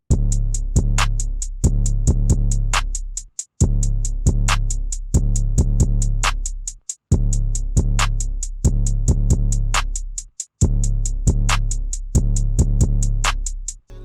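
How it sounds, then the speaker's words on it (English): A psychedelic R&B trap beat's full drum pattern plays alone: booming 808 bass under a steady kick, crisp ticking hi-hats and a clap, looping in repeating bars with brief dropouts between sections. "So yeah, here's the drums all together."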